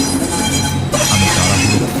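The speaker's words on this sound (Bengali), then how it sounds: "ঠিক তখনই একটা তীব্র হুইসেল বাজিয়ে ট্রেন এসে থামল।" A train pulls into a station with a sharp, sustained whistle and steady tonal squeal over a low rolling rumble of wheels and cars, loud and close throughout.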